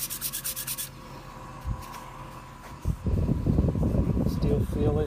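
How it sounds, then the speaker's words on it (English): Hand sanding of an epoxy lamp with finer grit sandpaper, close rhythmic rubbing strokes, brief at first and then steady and louder over a low background hum. "They keep sanding."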